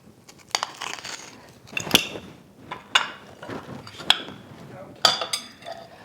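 Chunks of frozen Crisco shortening for an apple pie crust crunch and clack against a bowl of flour, a series of sharp, close, irregular knocks and scrapes with brief pauses between them.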